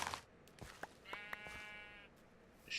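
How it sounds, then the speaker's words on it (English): A sheep in the Minecraft video game gives a single short bleat, quiet and clear against faint background noise, with a few soft clicks around it. "Sheep, obviously."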